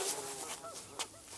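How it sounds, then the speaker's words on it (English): Three trapped geese honk from inside a sack, a few muffled, nasal calls over a steady low background, fairly faint and brief. "This is 3 geese I trapped yesterday."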